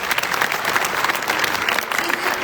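A big round of applause from a live audience, dense steady clapping with some crowd noise filling the whole stretch at even loudness.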